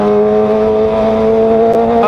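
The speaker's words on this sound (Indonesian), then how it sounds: "Gas RPM-nya naik turun, jadi kayak nggak stabil gitu" A car engine idles in stop-and-go traffic with unstable RPM, giving a close, steady droning hum whose pitch wavers slightly and climbs just at the end, with no voices.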